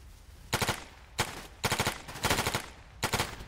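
Automatic gunfire in the shooter Stalker GAMMA, five short rapid bursts of several rounds each, sharp and close, separated by brief pauses.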